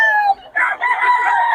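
An SBR bloodline gamefowl rooster crows loud and close, one long harmonic call broken by a short dip before it carries on strongly.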